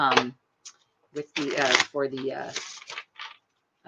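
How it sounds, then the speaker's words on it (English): Tarot cards being shuffled nearby in quick bursts of riffling and flicking, with short pauses between bursts. "I'm really going to shuffle it"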